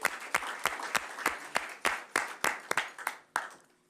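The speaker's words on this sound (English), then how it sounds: "Another round of applause for the youth in the room." Clapping from a council meeting audience honoring youth in the room: a dozen or so sharp, evenly spaced hand claps over a steady wash of applause, tapering off at the end.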